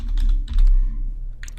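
A few quick keystrokes on a computer keyboard, close and distinct, in a short burst of clicky taps with a brief pause before a final key press.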